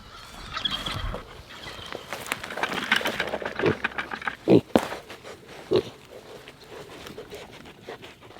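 Pigs feeding on soaked feed mixed with kelp in a homestead pen, with wet snuffling, grunts and squeals close by, busy and uneven, and a few louder bursts partway through.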